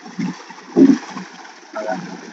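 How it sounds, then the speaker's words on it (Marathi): Borewell pump on a village farm gushing water: low, splashing bursts come in uneven surges, nearby and moderately loud, with quieter gurgling between them. "आता पाणी सुरू केलेलं आहे बघा. मस्त पाणी चालू आहे बोरिंग."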